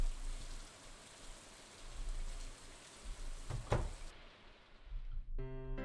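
Rain falls steadily in Stardew Valley, a soft continuous hiss of drops with one brief louder patter. Near the end the rain cuts out and light tones begin.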